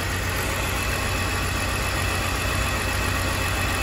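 A repaired car engine that still has a misfire runs steadily at idle, with a dense, constant low rumble and hum, loud and close, with no voices.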